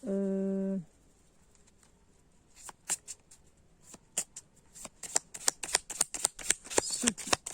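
Tarot cards shuffled and drawn by hand, a brief tonal sound at the start, then a series of crisp card slaps and riffles that grow quicker and denser toward the end.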